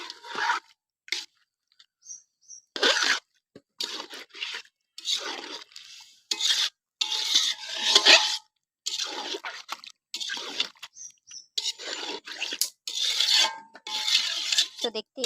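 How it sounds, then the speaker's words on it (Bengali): Goat meat is braised with spices in a pan and stirred, giving repeated short scraping and squelching strokes close by, separated by brief silent gaps. "খাসির মাংসটাকে আমি সুন্দরভাবে মশলা দিয়ে কষিয়ে নিচ্ছি"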